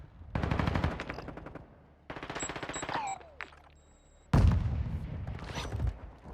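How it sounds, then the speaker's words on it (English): Rapid automatic gunfire from a video game firefight in three loud, close bursts, with a faint electronic beep and whooshing effect between the second and third volleys. "This blue guy on the left is shooting at him because I just pinged him."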